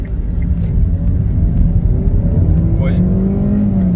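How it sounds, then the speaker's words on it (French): Naturally aspirated engine of a Kia Rio III car running loud and steady near the microphone, with a rising tone as it revs in first gear, while someone talks over it. "belle sonorité du moteur Atmo. Quand tu le lances sur la première, tu peux bien monter dans les tours"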